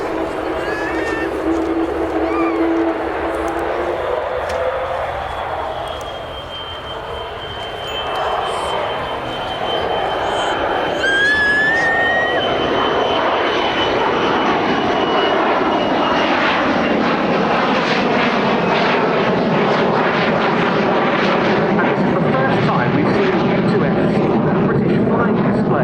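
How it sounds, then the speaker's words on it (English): A Lockheed U-2S reconnaissance jet takes off at an airshow. Its engine rises from a distant whine to a loud, broad roar that fills the air as it climbs away. An announcer talks over it throughout, with faint crowd noise behind. "here it goes, the Lockheed"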